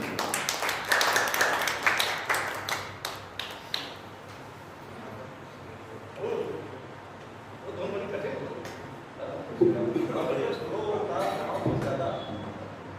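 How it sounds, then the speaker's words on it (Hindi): Audience members at a cultural gathering clap for a young devotional singer, a burst of close, sharp hand claps in the first few seconds that thins out, followed by someone speaking and scattered low sounds. "जोरदार ताली बजा लो इसके लिए।"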